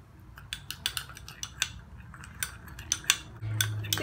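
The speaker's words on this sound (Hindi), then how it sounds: "इन सब चीज़ों को मिक्स करेंगे" Apple cider vinegar, vitamin E oil and honey being mixed with a spoon in a small bowl, giving a run of light metallic clinks and scrapes at an uneven rhythm, close and clear with no talking.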